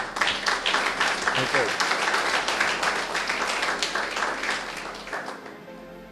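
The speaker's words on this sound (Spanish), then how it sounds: "¿Cuánto le aplauden?" A church congregation clapping during a rabbi's Spanish-language sermon, a broad burst of applause that holds for several seconds then fades, with a brief spoken word at the start.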